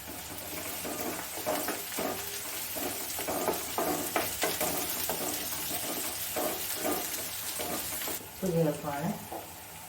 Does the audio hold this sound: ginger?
yes